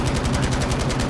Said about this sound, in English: Yeah, go nuts with that MG.